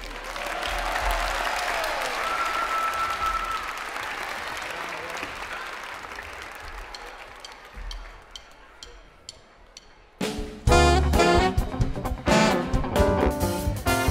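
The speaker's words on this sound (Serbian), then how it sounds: "A meni aplauz." A studio audience at a live Serbian television music show gives sustained, loud applause that gradually thins to scattered claps before a band bursts into music.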